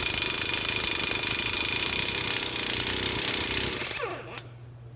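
A flex head air impact wrench hammers on a half-inch harmonic balancer bolt, a loud, continuous rapid rattling that runs for about four seconds, then cuts off, leaving a brief clunk and a faint hum.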